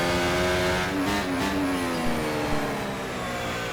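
Race cars at full speed on the Spa Francorchamps circuit, engines roaring loud and steady close by with high-revving whine and shifting pitch, no talk.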